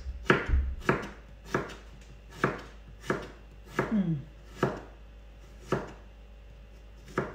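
A knife chops garlic on a cutting board in a dozen or so crisp, evenly spaced thuds, close and clear, with no talk.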